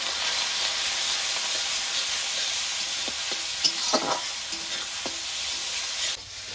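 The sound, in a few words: spice masala with turmeric being stirred and fried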